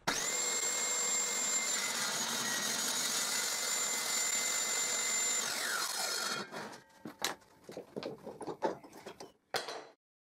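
A power saw crosscuts a clamped wooden board in a shop-made angle jig, a loud steady whine lasting about six seconds before winding down, followed by scattered clunks and clatter of wood being handled.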